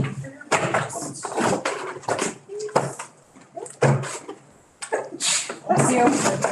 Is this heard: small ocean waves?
no